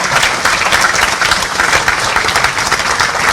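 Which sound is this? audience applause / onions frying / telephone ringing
audience applause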